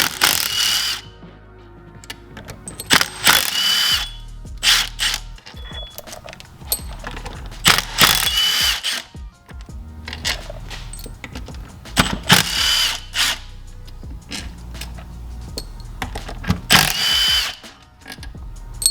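A ratchet backs Allen bolts out of a Seadoo 717 engine, bursts of rapid clicking pawl sound repeated several times with short pauses between, close and loud, with no talk.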